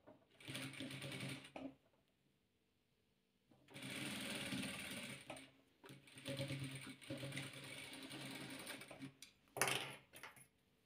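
A sewing machine stitches patchwork quilt blocks in several loud, steady runs of a few seconds each, separated by short pauses, with a brief sharp click near the end.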